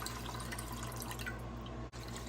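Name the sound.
liquid draining through a strainer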